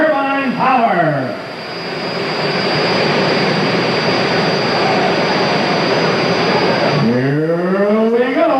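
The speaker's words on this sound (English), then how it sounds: "Twin jet turbine power." Twin jet turbine engines on a pulling vehicle at a 1985 tractor pull in Meadville, Pennsylvania, roar loud and steady for several seconds, with a rising spool-up whine at the start and again near the end.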